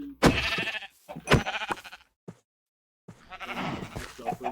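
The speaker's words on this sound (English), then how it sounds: "Those are sheep." Minecraft sheep bleat in a few loud, close bursts separated by short silences, with the longest call near the end.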